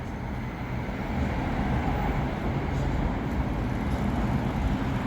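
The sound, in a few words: tram at Edgbaston Village stop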